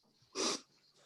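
A single short, sharp sneeze during a planning board meeting, a brief burst heard alone against a quiet room.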